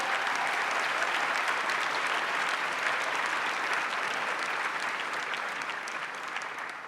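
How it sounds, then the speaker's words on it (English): A large crowd at a nursing school commencement ceremony applauds steadily and loudly for several seconds, dense clapping filling the space with no voices breaking through, tapering slightly at the end. "Give yourself a big round of applause."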